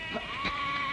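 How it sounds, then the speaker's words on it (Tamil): A flock of goats bleating outdoors, a few short overlapping bleats at moderate distance over constant background hiss, with no talking. "ஆட்டு கூட்டம்."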